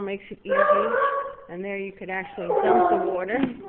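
Dogs at a horse farm whining and yipping close by, mixed under a man's ongoing speech, with short higher-pitched whimpers and barks woven through.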